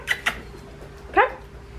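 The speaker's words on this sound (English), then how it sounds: "barking at the neighbors" A dog barks at the neighbors indoors: two quick sharp barks close together, then a pause and a third, louder bark, with no talking over them.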